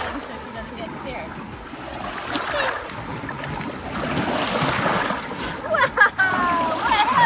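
Big waves slosh and splash against a paddle board carrying a dog out on the water, a steady broadband wash with sharper slaps near the end, while people talk intermittently over it.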